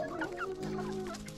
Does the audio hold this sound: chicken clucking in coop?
yes